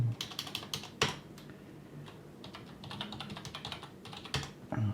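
Computer keyboard typing while editing a file in the nano editor, rapid bursts of close key clicks in irregular clusters with brief pauses, with no speech.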